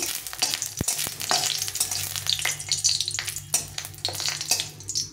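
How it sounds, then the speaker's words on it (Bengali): Chillies frying in a pan for a Bengali fish bharta, with a steady loud sizzle and frequent sharp clinks and scrapes of stirring throughout. "তো প্রথমে আমি লঙ্কাগুলো একটু ভেজে নিলাম"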